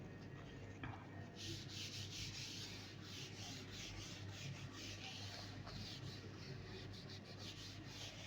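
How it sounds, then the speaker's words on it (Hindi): Steady scrubbing of an eraser or duster wiping chalk writing off a board in a classroom lesson, a continuous dry rubbing texture with no talk over it. "तो ये साइड पे रब कर लेता हूँ"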